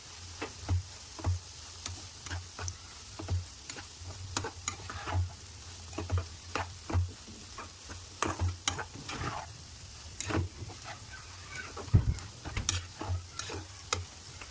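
Steady sizzling of ladyfinger (okra) frying in a pan, seasoned with chili powder and salt, with repeated scraping and stirring strokes of a spoon in an irregular rhythm, close and moderately quiet.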